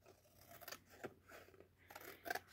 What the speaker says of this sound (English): I'm gonna cut it to the size which can fit into there.